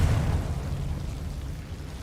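A Confringo blasting spell explodes in the Hogwarts Legacy video game on PS5, a loud, heavy boom with deep rumbling low end that rolls on and slowly decays over about two seconds, with no voices over it.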